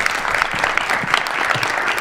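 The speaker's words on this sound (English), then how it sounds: "Give a round of applause for him." A live audience applauding at a stage performance, dense steady clapping that fills the whole stretch, close and fairly loud with no pauses.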